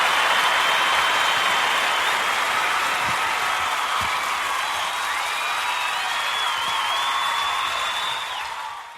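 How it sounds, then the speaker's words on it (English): A studio audience breaks into a sustained round of applause, dense steady clapping mixed with a few whoops and cheers, loud and even before thinning out at the very end. "Even an extra round of applause."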